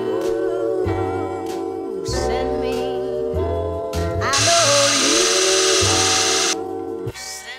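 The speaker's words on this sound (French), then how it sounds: "c'est un foret à étage parce qu'on doit faire un trou de 30 mm dans du métal" A power drill fitted with a step bit bores a 30 mm hole through metal while fitting a van heater, whining in repeated bursts that rise and fall in pitch, with one louder, harsher stretch of cutting near the middle.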